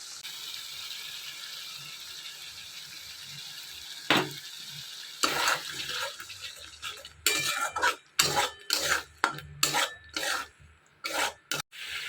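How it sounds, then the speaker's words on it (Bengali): Yogurt and poppy seed paste being sautéed in a pan, with a steady low sizzle building into repeated scraping, rasping strokes of a spatula against the pan in the second half, close and fairly loud. "দইটা আর পোস্তটা একসঙ্গে ভালো করে ফেটিয়ে নিয়েছি, তো এইটা দিয়ে দেব, দিয়ে ভালো করে একটু কষিয়ে নেব"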